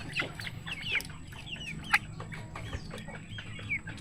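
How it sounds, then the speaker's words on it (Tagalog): Several Rhode Island Red chickens cluck and chirp in short, scattered bursts at moderate distance, with a low hum of background noise throughout. "Ito yung mga Rhode Island Red natin."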